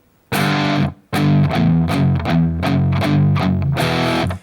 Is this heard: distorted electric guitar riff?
yes